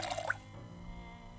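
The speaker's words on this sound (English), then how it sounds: "to refill your water bottle, I'll just show for now" A short watery fill sound from a water bottle being refilled in Project Zomboid (Build 41): a brief bright splash at the start fading into a faint steady hiss, with no talking.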